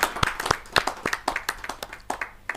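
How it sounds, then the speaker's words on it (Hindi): An audience at a Hindi poetry gathering (kavi sammelan) claps to welcome a guest onstage. The applause is a steady stream of sharp, uneven hand claps, fairly close, running the whole time without talk. "जो जोरदार ताली के साथ हम उनका स्वागत है।"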